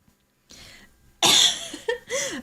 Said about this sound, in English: Violent coughs racked their bodies.